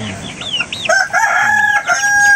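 Chickens on a farm cluck close by, then a rooster crows loudly and at length, with the clucking continuing underneath.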